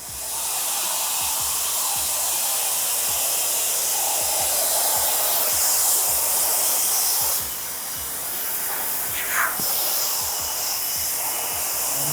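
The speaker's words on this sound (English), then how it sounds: "We're gonna go ahead and put on the air dryer." A powerful car wash air dryer blows steadily over a white Tesla with a loud, broad hiss, holding constant for several seconds before shifting slightly in tone.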